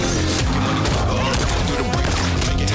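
A movie trailer's gunfire comes as a loud, dense burst of repeated shots and booms, packed into a busy mix of effects and music.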